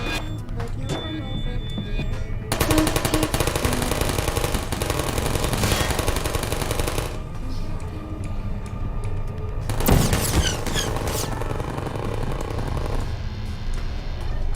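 Rapid gunfire sprays at the player in the video game Portal, a dense rattling volley lasting several seconds, then a shorter burst after a lull, with game sound continuing underneath.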